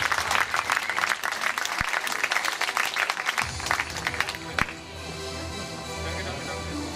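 Applause from an audience at the 2013 Bad Herrenalb champions' award ceremony, steady clapping for several seconds that thins and fades to a quieter murmur near the end.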